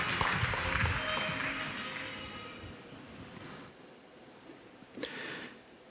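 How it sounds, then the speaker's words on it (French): Audience at a French marketing conference applauding speakers as they come on stage, a broad clapping wash that is loud at first and fades out after about three seconds, with a brief burst near the end. "On peut les applaudir évidemment."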